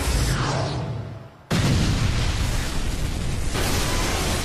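Shinra Tensei explosion effect from the Naruto anime, a huge roaring blast that fades, then a sudden second loud burst of sustained rumbling debris noise.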